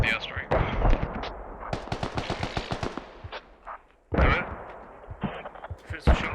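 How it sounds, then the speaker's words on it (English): Airstrike and gunfire in a Squad video game match, with rapid machine-gun bursts and loud booming explosions. A commentator's voice talks over the action. "Should I strike a Vic with the airstrike?"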